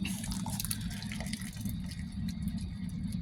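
Wort drips and trickles from a grain bag lifted out to drain during a Belgian tripel beer brew, a steady wet patter over a low, constant rumble with no talking.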